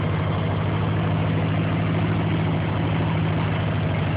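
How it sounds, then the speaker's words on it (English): Harley police motorcycle engine idling steadily as it warms up, a low, even throb with a constant pulse, close and continuous with no talking. "I'm holding the throttle just so it has a little bit of time to warm up."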